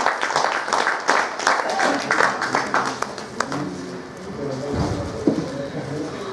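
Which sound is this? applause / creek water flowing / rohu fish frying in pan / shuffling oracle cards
applause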